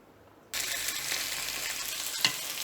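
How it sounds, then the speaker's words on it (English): Sliced onions drop into hot oil in a pan and start frying, a sudden loud sizzle that holds steady, with a brief clatter near the end. "When the oil is hot, add the sliced onions."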